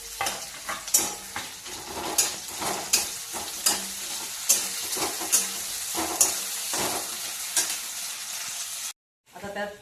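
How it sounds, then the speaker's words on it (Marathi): Potatoes drop into a crackling chilli tempering for a sago dish, frying with a steady loud sizzle and regular scraping stirs before a brief silence near the end. "मिरची चांगल्या तडकून द्यायच्या. हे तडकला त्याच्यामध्ये बटाटे टाकायचे."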